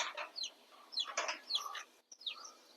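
Free-range country chickens on a poultry farm cluck and chirp in short, scattered bursts, with several calls overlapping at moderate distance and a brief pause near the end.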